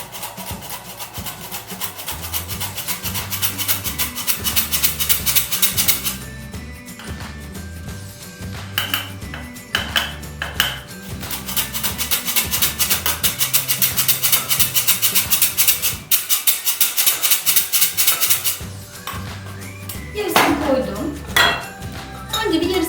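Flour being whisked by hand into banana cocoa cake batter in a bowl: fast, rhythmic scraping and tapping strokes in long runs with brief pauses, close and fairly loud.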